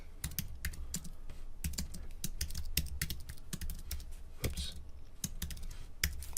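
Rapid, uneven keystrokes on a computer keyboard during a JavaScript coding session, close and fairly loud, with bursts of clicks spread across the whole stretch and no talking.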